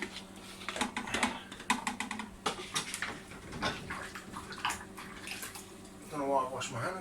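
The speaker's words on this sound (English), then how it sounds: "I don't know why I wash my hands when I've got to mix it all up together" Hands are washed under running water at a kitchen sink while cooking, giving irregular splashing and trickling with a few clinks, close and moderately loud, with a person talking over it.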